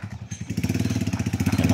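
Motorcycle engine fitted with a new exhaust pipe, running close by with a steady rapid exhaust pulse that builds from a rough start into a loud, even throb.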